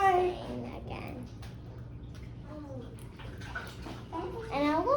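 Wet, squelching mixing of color-changing slime as activator is stirred in, soft sloshing and sticky sounds running under a child's chatter and an adult's voice.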